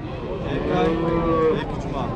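A single cow gives one long, loud moo lasting about two seconds at a livestock market in Kara-Balta.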